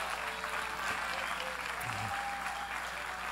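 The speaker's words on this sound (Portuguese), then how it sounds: "Vocês podem aplaudir, viu?" An audience at a fake-news roundtable claps continuously, a loud even wash of applause with a faint voice briefly beneath it.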